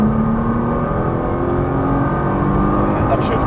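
Nissan GT-R on a race track at full throttle, a loud continuous engine roar with a steady rising pitch, close and unbroken.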